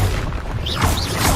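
A Confringo blasting spell explodes in Hogwarts Legacy, a dense, loud boom with rumbling low end and a whooshing magical burst swelling across a little over a second of close-up game combat.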